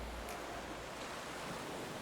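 Atlantic surf breaks around huge boulders at Praia dos Mosteiros, a black-sand beach in the Azores, in winter, heard as a soft, steady, distant wash of waves.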